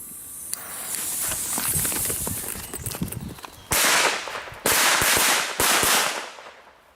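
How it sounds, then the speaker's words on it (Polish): Seven retro Russian K0202S Super Cracker firecrackers set off together as a ring outdoors: a loud fizzing hiss of burning fuses, then a run of sharp, close bangs with hissy tails. "O, jest słoneczko z siedmiu petard i odpalamy."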